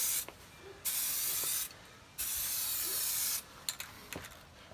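AutoDip aerosol sprays a car wheel in three sustained, loud hissing bursts of about a second each, close by, followed by a few light clicks and taps of handling.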